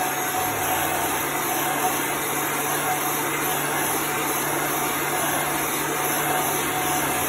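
A hair dryer blows steadily to dry chalk paste on a beach-themed chalk sign, a loud continuous whooshing drone that holds unbroken throughout with no pauses.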